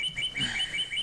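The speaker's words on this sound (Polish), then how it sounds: "Ale świergają ptaszki." Birds chirp in quick, bright repeated tweets within the video game Infestation: Survivor Stories, a close, steady pattern of short calls over a quiet background.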